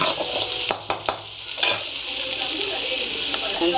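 Vegetables for fried rice are stirred in a hot pan: a spatula clinks and scrapes against the metal over a continuous close sizzle.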